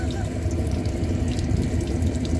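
Hot water drains steadily out of a six-gallon motorhome water heater, a constant close rush and gurgle of flowing water with no break and no talk.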